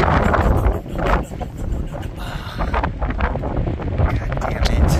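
Strong outdoor wind buffets the microphone with heavy, low rumbling gusts that rise and fall throughout, and a voice can be heard partway through.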